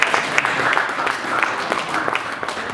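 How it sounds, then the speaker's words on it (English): A symposium audience claps in steady applause, a dense patter of hand claps from a medium-sized crowd with faint voices mixed in. "Should we clap hands for her?"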